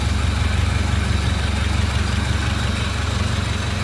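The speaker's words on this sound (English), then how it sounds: "nice clean tidy engine bay, smooth running engine" A 1930 Ford Model A roadster's 201 cubic inch inline four-cylinder L-head engine idles smoothly and steadily, a loud, close, even rumble with no talk.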